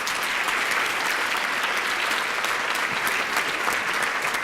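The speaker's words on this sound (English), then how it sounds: "I want to give him a round of applause" An audience at a faith-based legacy event applauds steadily, a dense, even wash of clapping hands that holds at a constant level from start to finish with no voices standing out.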